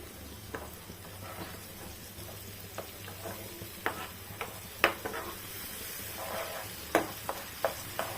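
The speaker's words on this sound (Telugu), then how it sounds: "అల్లం వెల్లుల్లి పేస్ట్ ఫ్రై అవుతుంటే ఇది కూడా మంచిగా ఫ్రై చేసుకోవాలి" Ginger garlic paste frying in a pan for prawn curry, a low steady sizzle broken by scattered sharp scrapes and clicks of stirring, fairly quiet and close with no voices.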